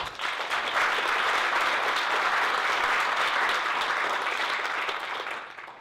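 A conference audience applauds to welcome keynote speaker Professor Chris Lintott, with steady, dense clapping from a large crowd that holds evenly and then begins to fade at the end.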